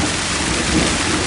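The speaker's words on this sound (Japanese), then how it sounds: "まるでさっきからずっと降り続けていたような、晴れていたのは幻か何かだったような激しい雨。" Heavy, steady rain pours down in a radio drama storm scene, a dense hissing wash with possible low thunder rumbling underneath.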